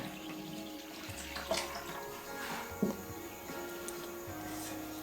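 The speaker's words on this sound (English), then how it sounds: "now add the 2 glasses of water." Two glasses of water pour into a pot of spicy raw rasam (pachi pulusu) that already holds ginger garlic paste and sesame powder. The trickle is faint, with a couple of brief splashy bursts over a quiet kitchen background.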